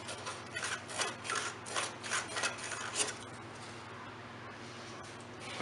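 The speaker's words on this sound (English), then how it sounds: "you want to take you some emery cloth and clean up the crankshaft here" Emery cloth rubs rust off the crankshaft of a Honda HRC 216 K3 lawn mower: about eight quick, close back-and-forth scraping strokes, then quiet.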